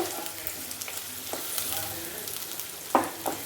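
Chopped onions frying in a pan for spicy chicken fry gravy, a steady close sizzle with occasional stirring scrapes and clinks.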